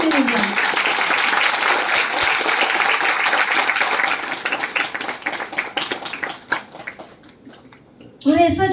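Audience applause at a welcoming session in a Chandigarh hotel, fairly full at first, then thinning into scattered, feeble claps before a voice cuts in at the very end.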